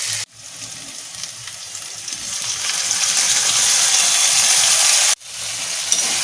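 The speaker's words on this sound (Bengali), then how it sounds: "মশলা কষানো প্রায় হয়ে গেছে," A spice paste fries loudly with potato and onion in a pan, a dense, steady sizzle that swells gradually, then cuts off abruptly and resumes.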